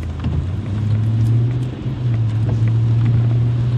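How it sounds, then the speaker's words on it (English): Smooth V8 engine of a Toyota 4Runner while driving, a steady low hum with a strong droning tone, continuous and fairly loud inside the cabin, with road and wind noise around it. "Listen to that engine too. So smooth, right?"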